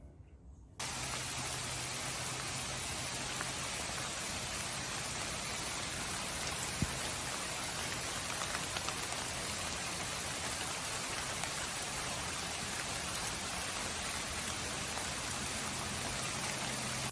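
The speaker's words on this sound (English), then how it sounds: "Lots and lots of rain." Heavy rain pours down outside onto a deck as a dense, even hiss that starts abruptly and carries on without a break, with no talking.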